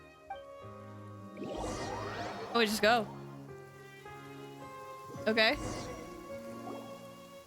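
Steady rain falls throughout a rainy scene in Genshin Impact, with soft patter and drips under two brief bursts of character speech.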